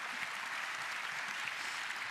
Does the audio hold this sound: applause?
yes